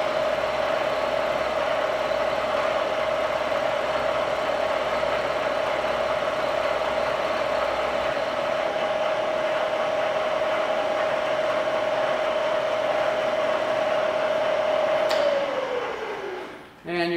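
A Bridgeport milling machine runs at about 800 RPM with a steady, loud mid-pitched hum and broadband cutting hiss that holds evenly, then winds down and falls away at the very end.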